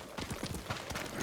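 Horse hooves clip-clop on a path in Ghost of Tsushima, a quick, even trotting rhythm of hollow knocks over a constant ambient bed, close and without speech.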